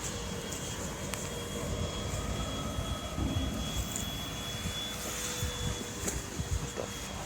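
Vacuum cleaner left running in a fire, a steady droning motor whine mixed with crackling and roaring flames, continuous and close, with no talking.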